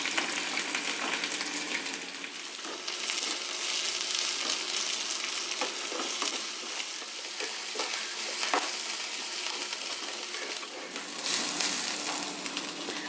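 Onion, mustard seeds and green chillies fry in about four teaspoons of hot oil, a continuous close sizzle with occasional stirring taps and scrapes, no talking.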